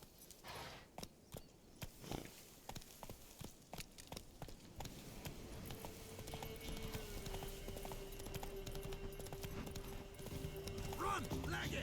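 Roach, the horse in The Witcher 3, with rapid rhythmic hoof clip-clops at a gallop, then a neigh and a long sustained whinny, under steady game ambience and a voice speaking.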